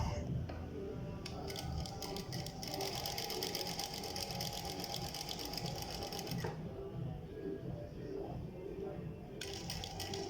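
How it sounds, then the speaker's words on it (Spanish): A sewing machine stitches a zippered jacket pocket seam in fast bursts of close, rattling needle clatter, pausing briefly and then restarting. "aquí voy a hacer la costura de una vez en la máquina"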